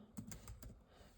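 Fingers tap out a short burst of keystrokes on a computer keyboard, a handful of quiet, close clicks in quick uneven rhythm with no voices.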